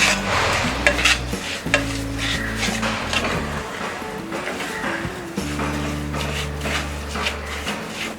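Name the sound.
stirring chocolate barfi mixture while cooking on medium flame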